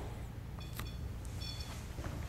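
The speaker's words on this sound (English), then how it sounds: "our REM pod begins to alarm" A REM pod alarm gives short electronic beeps during a paranormal investigation in a house, faint high tones repeating a few times over a steady low background hum.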